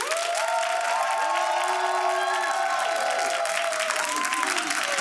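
Studio audience on a reality TV reunion show claps and cheers to vote, steady applause with loud whoops and shouted voices rising over it throughout.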